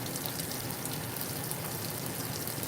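Water spraying and pouring into the drum of a GE GTW465ASN9WW washing machine, a soft, even hiss of splashing that runs steadily and fairly quietly throughout.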